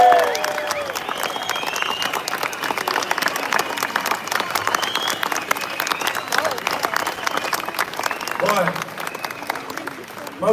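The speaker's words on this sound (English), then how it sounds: "Please give her a massive round of applause." Outdoor crowd at a football lads' protest against grooming gangs clapping and cheering in a long, dense burst of applause, with shouts mixed in and a voice briefly heard near the end.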